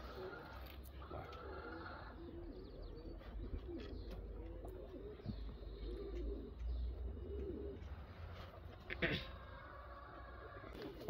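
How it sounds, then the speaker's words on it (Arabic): Turkish tumbler pigeons cooing softly in a loft, low murmuring coos repeating over faint background noise with occasional flutter and a brief clatter near the end. "عندنا الحمامة هذه تركي قلاب من أقوى أنواع الحمام القلاب"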